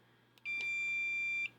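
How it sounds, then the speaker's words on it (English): A Holomarq keypad door knob for an interior door gives a single long, steady electronic confirmation beep, close and clear, held for about a second after a faint click. "It gives you a long beep and long light."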